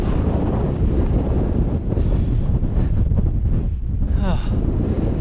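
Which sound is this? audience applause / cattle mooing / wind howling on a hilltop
wind howling on a hilltop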